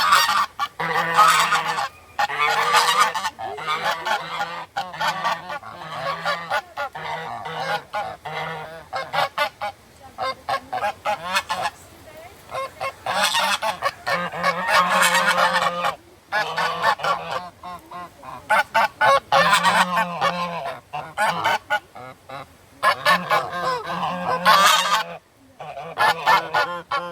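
Geese honk repeatedly along a hiking trail to a waterfall in Moorea, loud and close, in bursts of overlapping calls with short pauses between them.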